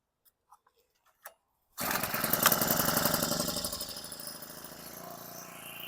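A Honda WX-10 water transfer pump's small engine runs on half choke, starting after a few quiet clicks, then buzzing loudly and steadily close by, its rhythm slowly easing.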